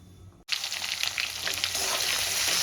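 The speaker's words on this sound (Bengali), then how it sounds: "এই তেলের মধ্যে আমি দিয়ে দেব গোটা জিরে, আদা বাটা আর কাঁচা লঙ্কা ফোড়নে" Whole cumin, ginger paste and green chilli hit leftover fish-frying oil with a sudden loud sizzle after a brief quiet moment, the crackle building and holding steady, close and with no talking.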